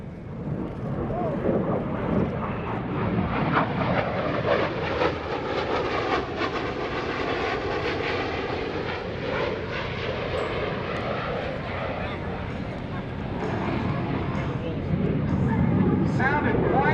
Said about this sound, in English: This is called the inverted whisper pass.